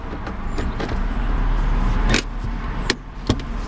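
Power window on a 2011 Mitsubishi Outlander Sport SE AWD, a steady motor whir lasting about two seconds inside the cabin, ending with a clunk as the glass seats, followed by a couple of sharp clicks.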